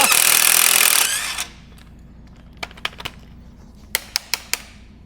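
A power tool on a Renault Kangoo 172 exhaust rattles hard for about a second while undoing two 13 mm clamp nuts, then stops. A series of sharp metallic clicks and taps follows in the quiet.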